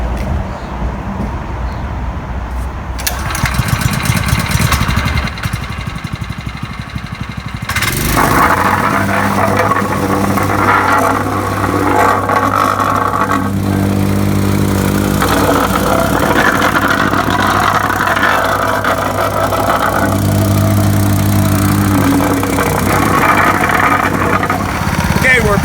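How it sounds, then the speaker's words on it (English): A plate tamper compacts a freshly laid asphalt speed bump wetted with water, its engine droning loud and steady with a rattling vibration that kicks in partway through and continues. "we're going to use the plate tamper with some water and we're going to give it its final compaction"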